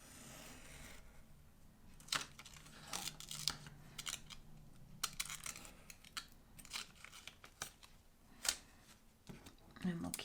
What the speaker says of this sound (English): And then of course cut around the window.